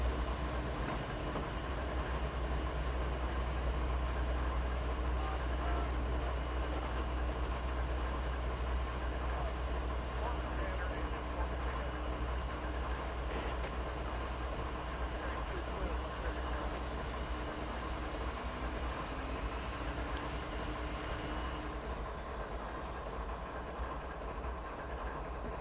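Amtrak train passing by in Train Simulator 2020, a continuous low rumble of engine and wheels with a steady rail drone held for the whole stretch, fairly loud and close.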